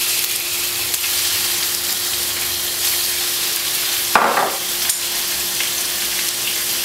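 Marinated beef sizzles steadily in a hot pan for Sichuan-style veal, a dense continuous frying hiss with a brief stir or clatter partway through, no talking.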